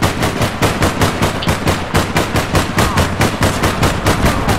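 Rapid automatic gunfire in the video game APB Reloaded, loud and close, a sustained stream of evenly spaced shots with no pauses or voices.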